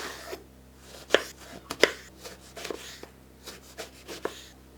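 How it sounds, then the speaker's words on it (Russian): A knife cuts a peeled eggplant into cubes on a board, giving a handful of sharp, separate chops at uneven intervals, close and fairly quiet, with soft handling noises in between. "Очищенный таким образом баклажан режем на кубики."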